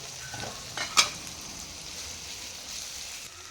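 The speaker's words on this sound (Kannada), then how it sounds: "ಹಾಕ್ಕೊಂಡು ನೀಟಾಗಿ ಇದನ್ನು ಫ್ರೈ ಮಾಡ್ಕೊಬೇಕು" Goat head meat frying in a pan with mint and curry leaves, a low steady sizzle with a couple of brief stirring clinks and scrapes, close and quiet with no one talking.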